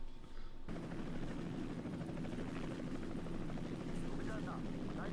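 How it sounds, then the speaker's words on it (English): A helicopter from the action film Extraction 2 gives a steady, dense rotor and engine roar that runs unbroken throughout, with a voice talking over it. "They actually land this helicopter on this plane."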